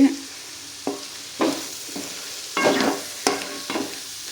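Homemade fried rice is stir-fried in a pan, with a steady close sizzle broken by repeated scraping, tossing strokes of a spatula in an uneven rhythm. No one talks.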